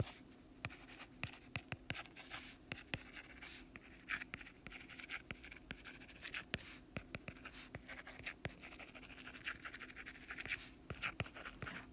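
Pencil scratching across paper while math is worked out by hand, a steady run of short, close strokes and taps with a faint hum underneath and no talk.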